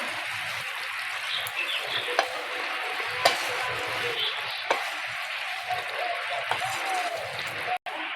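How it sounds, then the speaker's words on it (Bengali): Banana flower curry with lentil fritters is stirred in a pan over a steady, moderate sizzle. Occasional utensil knocks sound against the pan, and a brief dropout comes near the end. "ভালো করে নাড়াচাড়া করে নেবো।"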